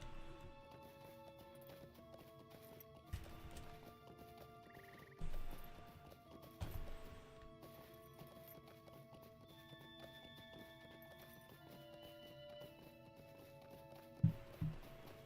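Clip-clop of horse hooves in the Lord of the Rings Online video game, a steady trotting rhythm under game music, with a brief whinny and a few sharper thuds near the end.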